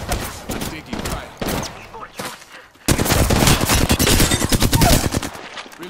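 Video game firefight with rapid automatic gunfire, sparse single shots at first and then a sustained loud burst of machine-gun fire, with faint voice chatter mixed in.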